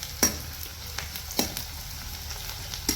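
Food frying in a pan for a Kerala home-style Sunday lunch, a soft continuous sizzle broken by a few sharp clicks and taps of a utensil against the pan.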